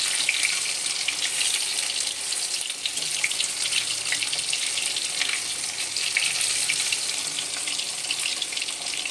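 Hilsa fish pieces lightly frying in a pan for shorshe ilish, giving a steady, close hiss and crackle of sizzling oil that continues evenly throughout.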